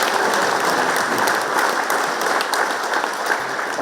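A room at a hall of fame event breaks into loud, sustained applause for a wheelchair team member, dense overlapping claps holding at an even level throughout.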